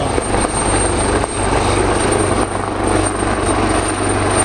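A 6.8-tonne helicopter flies a display at the 2022 Cholet helicopter air show, its steady loud rotor thump and turbine whine continuing without a break, close and dominant throughout.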